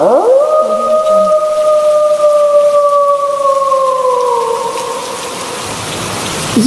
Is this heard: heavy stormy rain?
yes